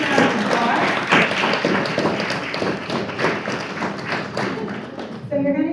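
A school board meeting crowd claps steadily for a group of students called up front, dense continuous applause with scattered louder claps, fairly close and sustained, ending abruptly.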